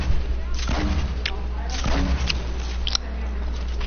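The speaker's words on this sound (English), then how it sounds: "Shoot at those other people. Shoot, shoot grenades at the ground." Grenade launcher blasts in Fortnite, several punchy booms at irregular intervals over a steady low game background, fairly loud and close.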